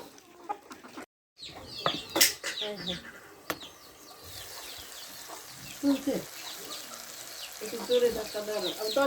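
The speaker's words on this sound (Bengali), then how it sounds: "মোরগগুলো খাওয়ার জন্য কিরকম করতেছে" Roosters cluck and fuss close by as they wait to be fed on a village homestead on a cold winter day, with sharp calls and chatter over a busy background and a brief moment of silence early on.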